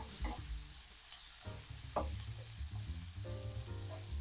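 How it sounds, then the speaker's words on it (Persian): Chopped herbs and greens tossed briefly in a hot pan, a faint, steady sizzle with a few soft stirring scrapes, quiet and alone. "نمیخوایم سبزی بپزه، فقط میخوایم یه تفت بخوره."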